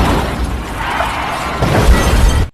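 A car crash in a traffic accident, a loud sustained wall of shattering and crunching noise that swells near the end and cuts off abruptly, with no voices.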